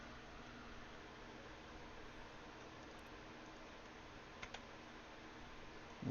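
Computer terminal keys tapped in Fallout 4, a faint scattering of soft clicks over a low hum of background ambience, with a couple of sharper taps near the end.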